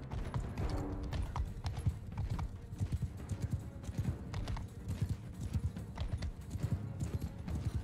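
Horse hooves clip-clop steadily in Mount & Blade 2: Bannerlord, a busy run of fairly quiet, repeated hoofbeats heard alone with no talk over them.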